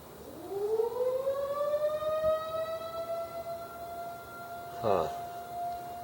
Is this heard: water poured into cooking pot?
no